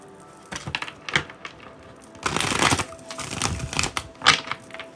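Playing cards are shuffled during a live reading, giving quick bursts of soft rapid flutter and clatter close by, rising and falling over a few seconds with no voices.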